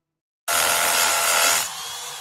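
A Bosch Bulldog rotary hammer drills into concrete in a loud, harsh, continuous burst that starts abruptly from silence and then eases to a lower grinding level near the end, with no speech.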